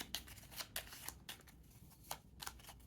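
A deck of cards is shuffled during a solo tabletop board game, giving faint, quick riffling and tapping clicks in an irregular rhythm against a quiet room.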